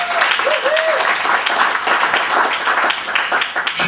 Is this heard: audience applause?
yes